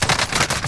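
Rapid gunfire from Call of Duty: Modern Warfare Warzone, a loud, dense burst of automatic shots that continues without a break through the moment.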